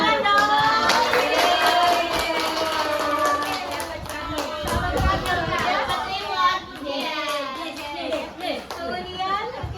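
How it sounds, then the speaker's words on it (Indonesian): Children in a classroom clap together, a dense burst of applause that gradually thins into scattered claps, mixed with excited chatter and young voices calling out. "Tepuk tangan dong"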